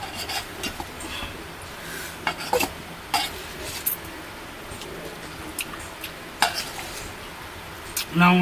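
Meat being fried in a pan, with scraping stirs and crackling sizzle running throughout and a few sharper clatters of a utensil against the pan.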